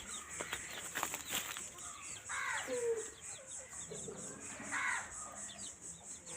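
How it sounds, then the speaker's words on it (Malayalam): Chickens cluck intermittently at a moderate distance over a steady high-pitched insect drone, with faint background voices. "അവിടെ കുറച്ച് കോഴികളൊക്കെ ഉണ്ട്."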